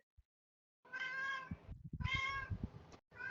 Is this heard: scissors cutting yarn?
no